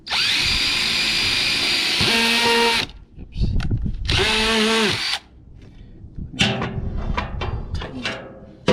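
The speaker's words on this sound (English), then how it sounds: "And then we drill the second hole." A cordless power drill bores a hole for a homemade surf fishing rod holder, whining in two loud bursts that rise in pitch, separated by pauses, followed by clattering handling noises and a brief spoken word.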